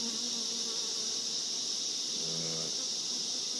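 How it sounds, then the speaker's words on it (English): Honeybees buzz steadily as a hive settles after its full box is lifted, forming a continuous high drone with a brief lower hum passing near the end, with no voices. "It takes the bees a little while to reorganise themselves after you've lifted their full box"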